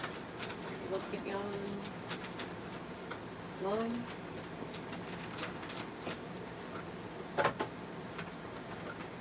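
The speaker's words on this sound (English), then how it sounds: "you might be hearing my dog. He decided it was a perfect time to start chowing down on his dinner." A dog chowing down on its dinner indoors, heard as faint scattered clinks and soft rattles like tags knocking against a bowl, low under a quiet room hum with one sharper clatter near the end.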